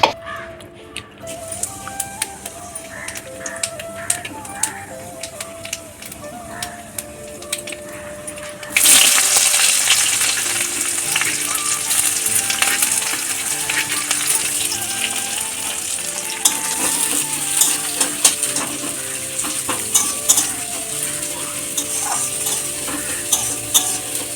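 Potatoes and taro fry in a wok with a steady, dense sizzle. Occasional clinks and scrapes of stirring run through it, and the sizzle grows louder partway through with no talking.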